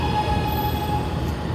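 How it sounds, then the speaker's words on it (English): A New York City subway train rumbles steadily at the platform as it arrives, a continuous loud low roar of wheels and cars with a faint high whine running over it, and no voices. "Our train's coming soon."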